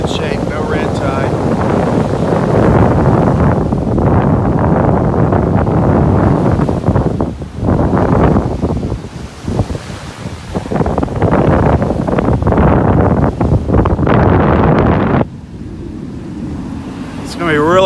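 Surf rolls onto a beach in North Naples, Florida, as a continuous rushing roar buffeted by heavy wind noise on the microphone, dipping briefly between breaks and fading near the end.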